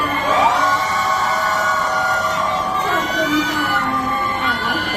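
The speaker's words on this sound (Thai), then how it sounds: "ขอเสียงกรี๊ดดังๆด้วยไหมคะ" A crowd of fans screams and cheers loudly and continuously at a Thai fan event, high excited voices overlapping in a sustained roar.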